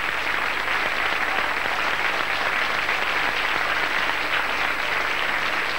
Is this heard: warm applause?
yes